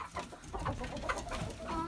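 Chickens in a backyard coop with their first eggs, soft overlapping clucks and murmurs from several hens, faint and close, with a low rustling bed beneath.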